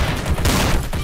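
Gunfire in Garry's Mod Trouble in Terrorist Town, a dense burst of shots running continuously through a brief, loud stretch of a video game firefight.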